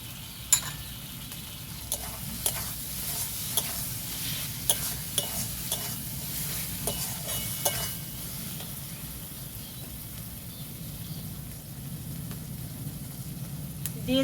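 Chicken kosa frying in a pan, village-style, crackles with a continuous sizzle as a utensil stirs and scrapes in a steady rhythm of small clicks, with some faint speech-like sound in the background.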